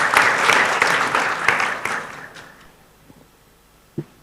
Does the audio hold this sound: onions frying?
no